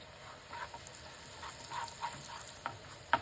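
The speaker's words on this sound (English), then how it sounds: "Sauté until the cumin becomes light golden" Sliced garlic and cumin seeds sautéing in oil in a pan for a red and yellow lentil curry, a faint steady sizzle with a few soft stirring clinks, no talking.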